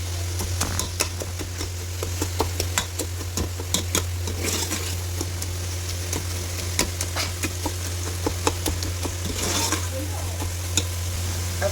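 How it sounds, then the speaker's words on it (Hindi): Onions and spices roasting in a pan for double-onion bhindi gosht, a steady soft sizzle with repeated spoon scrapes and stirring knocks against the pan, alongside a constant low hum. "मसालों को भी इसके साथ अच्छी तरह से भून लेते हैं।"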